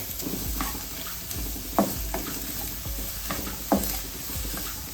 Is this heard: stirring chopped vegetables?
yes